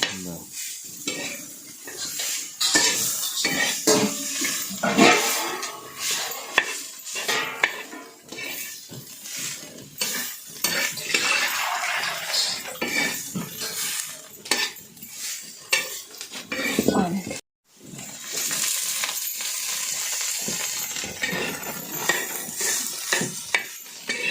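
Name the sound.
stirring and sautéing kurdu greens in a pan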